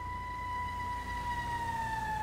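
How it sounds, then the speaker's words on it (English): A V12-engined car lets out a loud, high, steady whine like an old Formula One car, holding a sustained tone that dips slightly at the end as it passes. "It sounds like, it sounds like an old F1 car."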